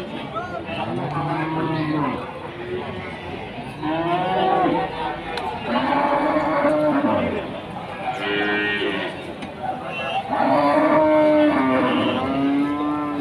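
Several Simmental cows, including a pregnant one, moo loudly in turn, long low drawn-out calls repeating throughout, with a faint hiss and background noise between them.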